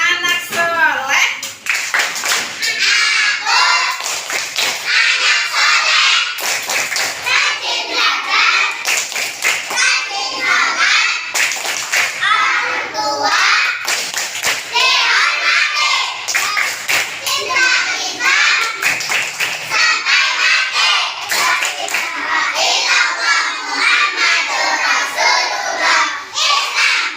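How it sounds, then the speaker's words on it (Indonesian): Indonesian schoolchildren in a third-grade religious-education classroom perform the tepuk anak soleh clapping chant, rhythmic hand claps under chanting young voices, loud and close throughout. "Sekarang tepuk anak soleh."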